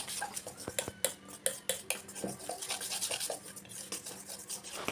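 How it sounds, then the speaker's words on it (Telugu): Milk being stirred into banana pancake batter in a frying-pan cake recipe, with quick clinking scrapes of a utensil against the bowl in an irregular rhythm, close and fairly loud, with no talk. "కొంచెం కొంచెం పాలు పోసుకుంటూ బాగా కలుపుకోవాలి."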